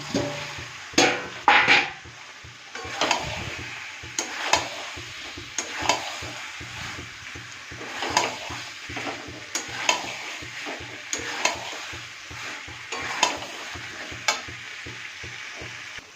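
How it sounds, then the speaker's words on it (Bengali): Potatoes sautéed in spiced oil for aloo dum sizzle steadily while a spoon stirs and scrapes the pan in repeated knocks and clatters, close by and without speech. "এইবার আলুগুলো দিয়ে ভালো করে কষাবো"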